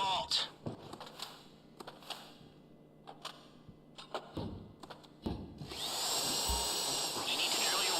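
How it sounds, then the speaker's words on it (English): A drill grinds through the vault door lock in GTA Online, beginning as scattered clicks and taps, then swelling at the end into a steady, loud mechanical whir. "You need to drill your way through multiple discs in order to break the vault door lock."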